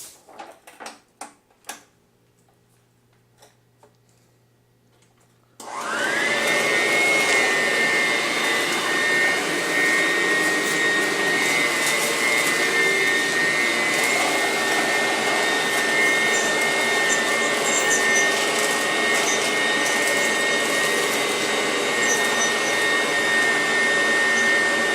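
A Sanitaire commercial upright vacuum cleaner switches on after a few quiet seconds and runs steadily at a loud, close, constant roar with a high whine on top, never pausing.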